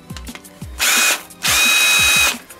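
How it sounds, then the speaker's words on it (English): A Ryobi cordless drill on a lithium battery whirs in two short bursts, the second longer, with clicks and light handling knocks in between. "Put it in this drill."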